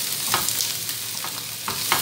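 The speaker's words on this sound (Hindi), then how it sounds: "और इसे मैं फ्राई करना स्टार्ट करूँगी। ज़्यादा इसको फ्राई नहीं करना" Chicken fries in a pan for crispy shawarma, giving a steady close sizzle broken by a few sharp stirring scrapes, with no voices.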